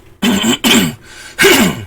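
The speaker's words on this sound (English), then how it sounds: "I'm going to be coughing and clearing my throat a bit more than normal" Three short, harsh throat clears in quick succession, close and fairly loud, with brief pauses between them.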